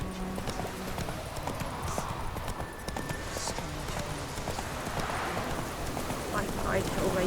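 Hooves of Geralt's horse Roach clip-clop at a steady gallop in the video game Witcher 3, a continuous rhythmic patter under game ambience, with a voice speaking over it.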